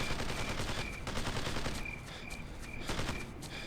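Enemy gunfire in the tactical shooter game Ghost Recon, a dense, continuous crackle of rapid shots that holds steady throughout, loud and unbroken, with some bursts standing out above the sustained fusillade.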